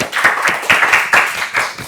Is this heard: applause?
yes